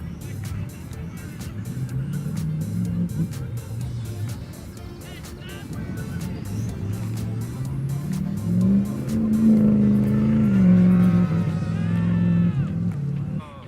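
Off-road truck engine revving hard and straining as it tries to cross a beach on California's Lost Coast, a steady loud drone that rises in pitch toward the end with tire noise.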